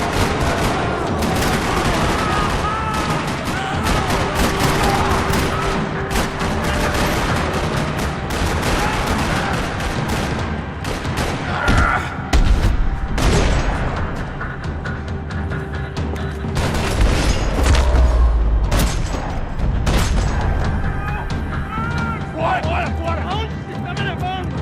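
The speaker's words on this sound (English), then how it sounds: "Another parking lot rattling with gunfire." Dense, continuous gunfire fills a firefight in a parking lot in the Max Payne 3 video game, with rapid automatic bursts and single shots over rumbling effects, while voices shout beneath the constant loud shooting.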